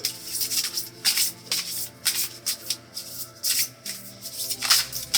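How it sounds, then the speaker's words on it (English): Tarot cards are shuffled by hand in repeated riffling bursts, a rhythmic papery rustle with short pauses between, close and fairly clear. "So I'm just going to shuffle from this deck, tap my energy in here."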